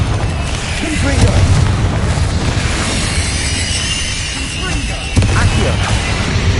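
Deep booming blasts of the Confringo fire spell in Hogwarts Legacy, several heavy bursts and rumbles over a noisy game backdrop, with a voice nearby calling out spells.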